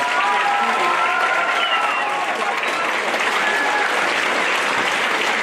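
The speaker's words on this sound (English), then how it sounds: "Let's give them a big round of applause." Audience applause at an elementary school band and chorus concert, dense sustained clapping from a crowd throughout, with a faint tone or voice underneath.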